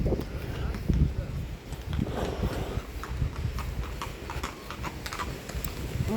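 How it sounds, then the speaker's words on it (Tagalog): A horse's hooves clip-clop at a steady walk outdoors, rhythmic knocks over wind buffeting the microphone, moderately close, while a person talks. "Horse, mga guys. Horse."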